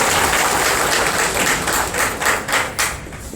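An audience at a local sanitation workers' clothing distribution event in Buchi claps together, a broad, steady patter of hands that fades slightly toward the end.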